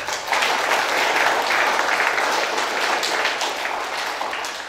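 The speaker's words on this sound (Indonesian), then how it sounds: "Tepuk tangan untuk kita." Sustained applause from an audience at a yudisium graduation ceremony for education graduates, a dense, loud wash of many hands clapping that holds steady for several seconds and then tapers slightly.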